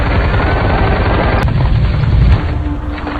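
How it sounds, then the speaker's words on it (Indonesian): A war-film battle scene with loud, sustained machine-gun and sniper-rifle fire, booming blasts and rattling bursts that run without a break. "Dengan aba-aba dan tembakan senjata mesin, pasukan sniper Ukraina pun melesatkan tembakannya"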